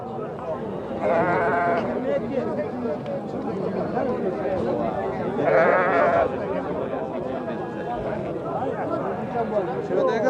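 Sheep and rams at a livestock bazaar in Nookat let out two loud, clear bleats a few seconds apart over constant crowd chatter and people talking.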